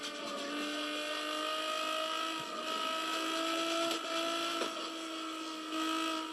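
A car engine in a racing video game drones at a high, steady pitch from phone loudspeakers, with small tonal shifts and faint clicks, and no voices.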